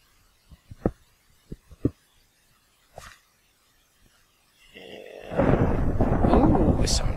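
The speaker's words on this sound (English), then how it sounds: "Lightning!" Thunder from a lightning strike in Minecraft rolls in as a loud, sustained rumble that builds and holds for the final two seconds, after a few soft scattered thumps.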